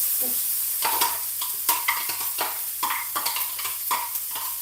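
Crushed garlic, ginger and onion fry in a pan, with a close sizzle broken by repeated scraping strokes of a utensil stirring at a steady rhythm, with no talking.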